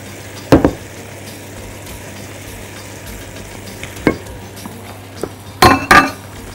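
Chicken and peppers sizzle in a pan with a low steady fry, broken by several loud sharp clanks of a utensil striking the pan as they are stirred.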